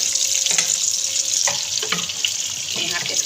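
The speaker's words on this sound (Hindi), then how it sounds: "यहाँ पे हमने थोड़ा सा प्याज का बघार करना" Chopped onions fry loudly in hot oil for a tadka, a steady close sizzle with occasional stirring scrapes and soft clinks.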